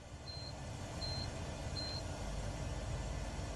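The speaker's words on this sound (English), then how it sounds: "Holden, I was kind of going through here and I was trying to figure out what your beeping sound was. And I was wondering if it was your ELT being on" An ELT in a Cessna 408 SkyCourier in Microsoft Flight Simulator 2024 gives three short, evenly spaced high beeps, quiet against a steady, loud engine drone.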